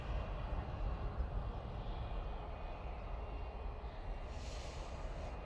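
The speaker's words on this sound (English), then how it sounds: "That one's off to Naples. That's a 321 Neo." An Airbus A321neo jet departs Manchester Airport bound for Naples, a steady broadband engine roar held at a constant level throughout, with a faint higher hiss rising near the end.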